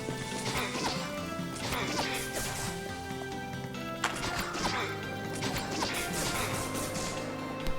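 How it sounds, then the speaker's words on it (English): Repeated crashing, shattering bursts like glass cracking ring out during a video game boss fight, loud over a dense bed of game music and effects, with sharp hits near 4 and 7.8 seconds. "You hear that glass cracking noise."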